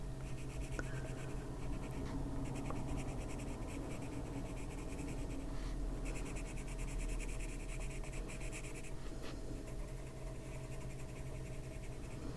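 A colored pencil scratches and rubs across paper in an adult coloring book, a steady close-up scribbling texture with brief pauses, faint and without talk.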